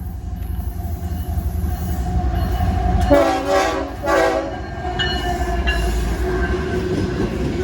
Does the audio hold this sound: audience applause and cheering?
no